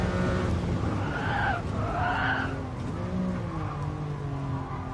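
A Lamborghini race car in Gran Turismo Sport brakes hard in a Lamborghini Cup campaign race. Tires squeal in wavering bursts over a constant engine drone, the sound close and steady with no speech.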